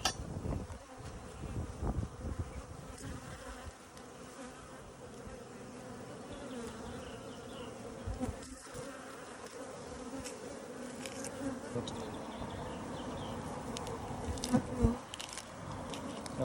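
A colony of bees, thought to be Africanised, buzzes inside two chimneys, a constant close drone with scattered knocks and scraping throughout.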